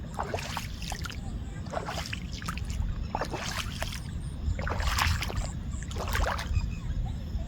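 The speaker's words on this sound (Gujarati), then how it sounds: "મીઠો મીઠો અવાજ આવે પાણીનો" Water runs gently through an irrigation channel in a field, soft gurgling trickles and small splashes rising in repeated bursts over a low steady flow.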